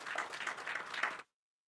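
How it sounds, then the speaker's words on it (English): An audience at an HR panel discussion applauds the panelists, a short burst of dense clapping that cuts off abruptly into silence. "So I request everyone to give them a big round of applause."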